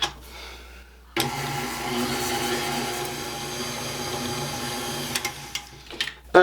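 An electric hand mixer beats banana bread batter, starting abruptly and droning in a steady loud whir for about four seconds before cutting out, followed by a few knocks and taps.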